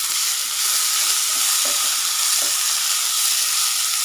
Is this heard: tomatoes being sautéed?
yes